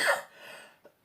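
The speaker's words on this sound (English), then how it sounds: "y'all know I got that smoker's cough" A single harsh smoker's cough bursts out close and loud, followed by a raspy breathy tail and a small second catch of the throat.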